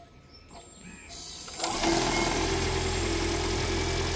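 A 2018 Toyota C-HR hybrid with an 1800 cc engine, starting from near silence before a steady idle hum rises and settles into a continuous even drone, no speech.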